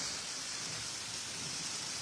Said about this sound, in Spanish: ¡Te dan miedo los relámpagos, los truenos, las centellas!